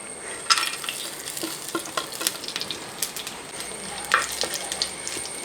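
Whole fennel seeds, cloves, cinnamon, star anise and cardamom fry in hot oil left from frying chicken for a chicken curry, giving a steady close sizzle with light stirring scrapes and clinks and no talk.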